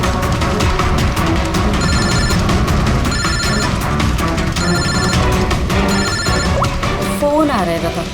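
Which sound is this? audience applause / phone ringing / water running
phone ringing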